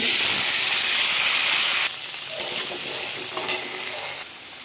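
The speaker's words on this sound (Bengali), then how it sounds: "বড়িটা ভেজে নেব" Bori lentil dumplings frying in hot oil in a pan give a loud, steady hiss and sizzle that drops partway through to a softer bubbling crackle with a few stirring knocks, close and without talk.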